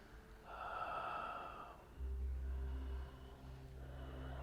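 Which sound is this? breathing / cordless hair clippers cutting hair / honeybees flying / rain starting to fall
breathing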